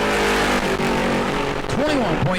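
A super stock race car running qualifying laps at New Smyrna, its engine note loud and steady throughout, with a commentator's voice talking over it.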